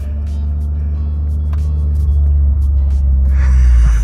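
A Toyota GR Corolla with all-wheel drive, fitted with a new circuit-edition wing, drifting: a loud, close, steady engine drone and low rumble that swells toward the end, with brief voices in the cabin.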